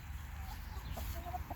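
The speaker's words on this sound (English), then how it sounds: "Now the chickens are doing the rest of the work, scratching it up, digging up the bugs" Chickens cluck softly while scratching and digging for bugs in freshly cleared dirt, a low steady murmur of short clucks close by with a few brighter calls over a constant background hum.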